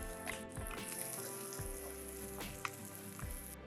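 Steady crackling sizzle of chopped ginger and garlic frying in hot oil, with scattered pops and spits, close and continuous, no voices.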